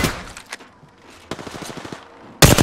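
Gunfire in Apex Legends: a scattered string of shots with a rapid burst in the middle, then a loud close volley at the end, with no talking over it.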